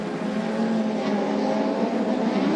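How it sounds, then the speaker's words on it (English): Speedcars racing at Maryborough Speedway in the Fraser Coast Cup final, a loud continuous engine roar from the field down the main straight, steady and dense throughout with no clear speech. "as our race leader goes down the main straightaway"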